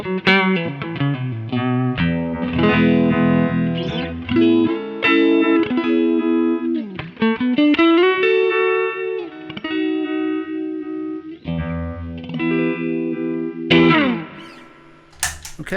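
Electric guitar through an MP Custom FX Voodoo Vibe pedal with a vibe effect, chords and notes pulsing and swirling with a throbbing modulation and some distortion, played loud and continuous without talking.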